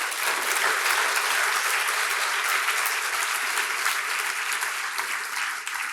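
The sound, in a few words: audience applause for speakers and panelists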